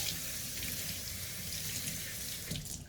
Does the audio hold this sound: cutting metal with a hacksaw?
no